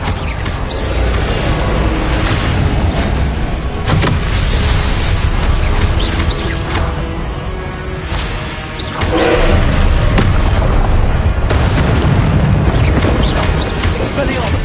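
Confringo spell blasts in Hogwarts Legacy on PS5 land as loud, dense booms and bursts over a constant roar of game effects, with voices calling out throughout.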